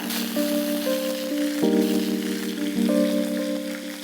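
Curry leaves sizzle in hot oil with popping mustard seeds, a steady close crackling hiss over a faint background hum.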